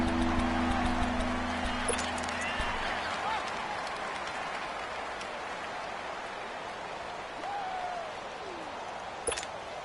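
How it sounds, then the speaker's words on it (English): Crowd roaring in a football video game ahead of a big third down, a broad steady wash of cheering and clapping noise that holds throughout, with a commentator's voice faintly beneath. "The crowd getting into it as we come up on a big 3rd down."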